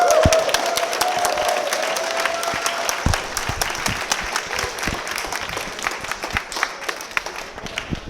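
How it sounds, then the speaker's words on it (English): An award ceremony audience claps for the organizers, a sustained round of dense applause with scattered louder claps that thins gradually, while a whistle-like tone fades early on. "Applause for the organizers!"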